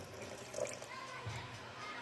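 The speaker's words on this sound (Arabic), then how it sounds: "درت كلشي في الترموس، خويت عليه الماء طايب" Boiling water is poured over licorice root into a thermos, giving a steady, close splashing and gurgling pour that runs continuously for about two seconds.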